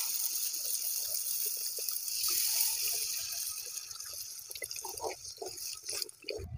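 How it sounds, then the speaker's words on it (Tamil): Tamarind water poured into a brinjal curry, a steady faint liquid stream and trickle followed by soft splashes, drips and stirring clatter near the pot. "புளி கரைசல் ஊத்திக்கலாம்."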